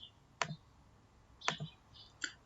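A computer mouse clicks quietly at close range, with a few sharp, isolated clicks spaced about a second apart.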